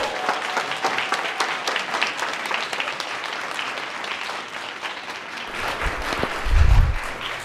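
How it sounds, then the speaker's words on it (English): Middle school students are applauded at a Leander ISD school event, a loud, sustained round of many hands clapping, with a few cheers and a brief low thump near the end. "Can we go ahead and do one more round of applause for our students?"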